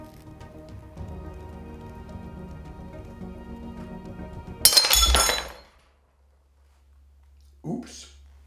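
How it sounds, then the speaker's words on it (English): Glass cracks from thermal shock with a sudden sharp burst that fades after about a second, following a quiet hum. A short faint tinkle of glass comes moments later. "What you see is a thermal shock in the glass."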